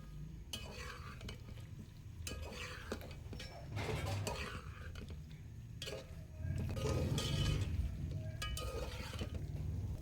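Chicken frying in a pot for yakhni pulao, a steady sizzle under repeated scraping and clinking of a spoon stirring against the metal, growing louder partway through, with no talk.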